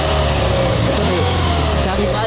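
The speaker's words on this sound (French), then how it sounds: "T'arrives à accélérer avec le moteur." A Fiat Panda engine drones loud and close from inside the car, a steady mid-pitched hum that holds throughout with little change in pitch.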